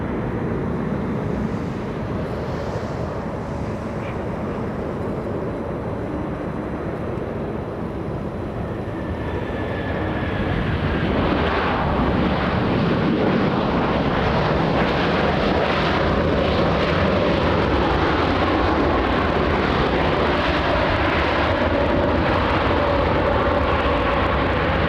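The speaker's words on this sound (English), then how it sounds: "The aircraft a 787. In fact, it's touching down right now." A United Airlines Boeing 787 arriving from London touches down at LAX; a distant, steady jet roar swells louder and fuller midway and keeps rumbling, with no talk.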